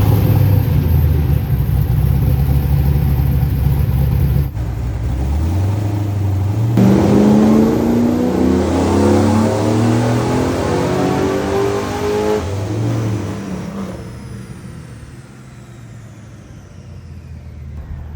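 A V8 engine in a Toyota MR2 runs hard on a dyno, loud and near: it idles roughly, then revs steadily up through a long climbing pull before backing off and settling.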